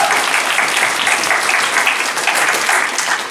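Convention crowd at a Doctor Who Q&A panel in Wales applauds steadily, a thick, sustained roar of clapping from many people with slight swells in intensity.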